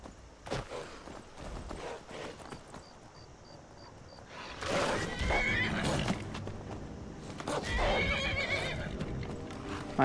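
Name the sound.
horse neighing and hooves clip-clopping in video game Skyrim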